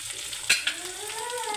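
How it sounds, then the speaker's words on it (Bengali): Hot oil hissing under spicy vegetable bhaji as it fries, broken by two quick clanks of a spatula against the pan, with a faint high whine in the background. "ভালো করে একটু ভাজা ভাজা করে নেব"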